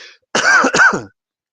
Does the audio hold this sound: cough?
yes